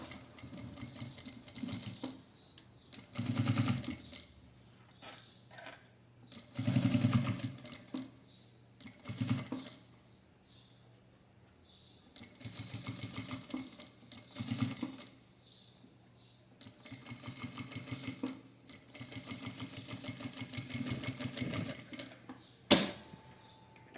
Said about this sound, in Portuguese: Agora, eu vou tomar cuidado para o forrinho vir pro lugar certo e vou fazer o pesponto aqui